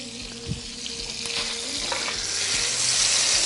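Butter and olive oil sizzling in a pan with garlic and sprigs of thyme, a steady close hiss that swells slightly, with a light clink of utensil early on.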